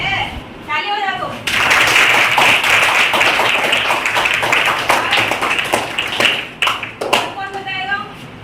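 An audience breaks into sustained clapping, a loud dense patter lasting several seconds and then tapering into scattered claps. Speech is heard before and after.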